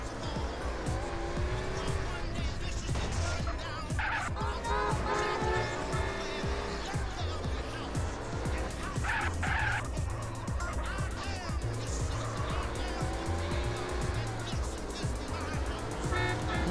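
Sports cars race off-road in the video game GTA San Andreas, with engines roaring steadily and loud throughout, tires squealing now and then, and a few horn toots over the dense, unbroken driving noise.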